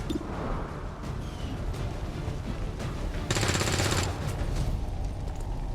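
Automatic weapon fire from the video game XCOM 2, a busy stream of rapid bursts with a louder, sharper volley near the end, set against game ambience with no speech.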